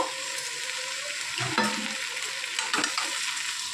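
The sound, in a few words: frying potatoes with Bengali amaranth stems in pan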